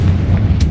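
Confringo blasting spell going off in the Hogwarts Legacy video game, a low rumbling boom that holds for under a second, with a short bright crackle near its end.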